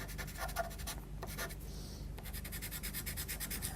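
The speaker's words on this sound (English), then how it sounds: "take the white pencil as well and just add a bit more detail with that." A white pastel pencil draws on paper, giving close, dry scratchy strokes in quick repeated rhythmic bursts with a brief pause, steady and fairly quiet.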